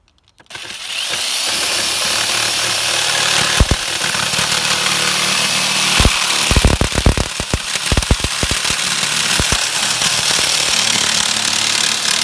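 A power tool runs at relatively slow speed cutting plastic sheet for a COVID face shield, a loud continuous grinding whine with sharp cracking bursts mid-cut, close and alone.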